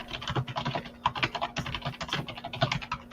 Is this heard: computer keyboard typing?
yes